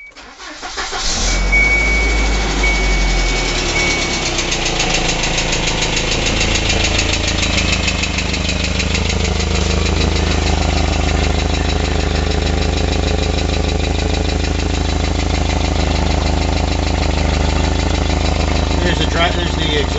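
A 1993 Volvo 240 Classic engine cranks briefly, catches, and settles into a steady, loud idle with a rough, ticking exhaust leak running underneath, recorded close up while someone talks over it.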